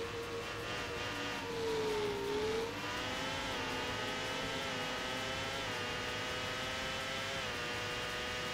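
Simulated Formula 1 car from F1 World Grand Prix on Dreamcast re-accelerating, a steady buzzing engine tone rising through the gears, with a sustained whine and constant level throughout.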